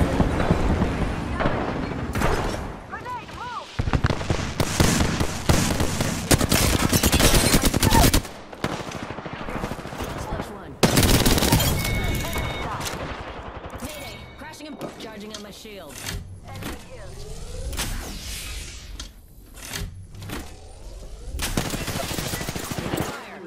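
Weapons firing in a game of Apex Legends, rapid automatic bursts and single sharp shots in repeated clusters with short gaps between them, with a voice speaking over parts of the firing.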